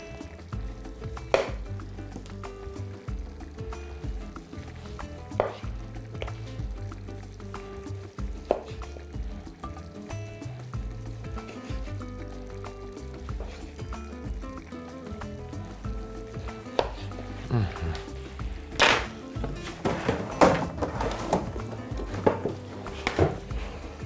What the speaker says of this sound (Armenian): Մեկ մեծ լոլիկ ենք շերտատում։